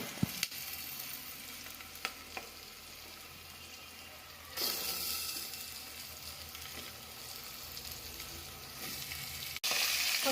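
Fish sizzles and fries in a pan with onions, turmeric, ginger and chilli for a fish curry, a steady close crackle that swells louder midway with stirring noises.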